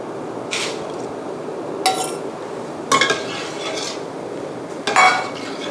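Coconut cream is stirred into a pot of vegetarian mushroom curry, a utensil scraping and clinking against the metal pot in a few separate bursts over a low steady background, no talk.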